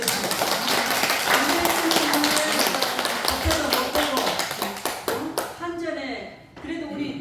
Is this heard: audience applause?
yes